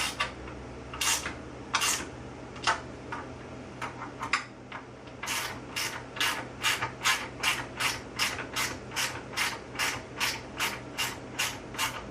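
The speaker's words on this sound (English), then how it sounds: "you can use the wrench on the inside, or you can twist the Allen wrench on the outside" Allen wrench ratcheting as it tightens bolts during assembly of a Ryker Pilates reformer: a few separate clicks at first, then a steady, even run of about fifteen close, crisp ratchet clicks with no talking.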